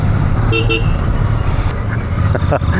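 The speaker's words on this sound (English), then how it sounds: "I do think the horn sounds a little bit like a car horn." Two short motorcycle horn toots, sounding like a car horn, in quick succession over steady road and engine noise, followed by a few fainter beeps.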